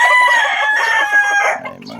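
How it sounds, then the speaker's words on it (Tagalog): A rooster crows loudly and close by in one long, drawn-out call that trails off at the end, with quieter farmyard sounds beneath. "may mga manok na tayo dyan."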